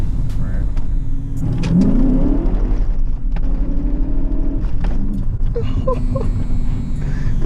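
BMW E39 M5 with a new clutch pulling hard from inside the cabin, loud engine drone rising under excited talk from the occupants.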